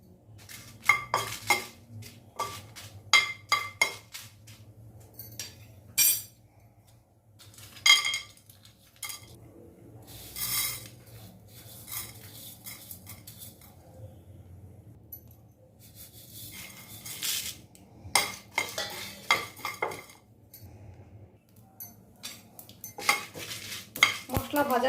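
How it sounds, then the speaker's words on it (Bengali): Coriander, cumin, dried chilli and garam masala are dry-roasted in a pan, heard as repeated metal scrapes and clinks of a spoon against the pan in uneven bursts over a low sizzle, close by, with quiet gaps between the stirs. "এগুলোকে আমি প্রথমে এখানে আগে ভেজে নেব শুকনো খোলায়"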